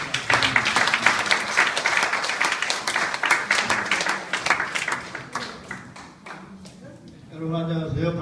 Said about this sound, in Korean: 우리 연기영 목사님을 박수로 맞이해주시기 바랍니다.